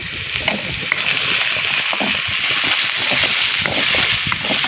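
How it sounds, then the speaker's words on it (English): Onions frying in hot oil for chicken manchow soup, a steady loud sizzle and crackle close by, with occasional stirring scrapes and no talk. "Now I'll put in the onions. Okay, right. We're going to really fry it up."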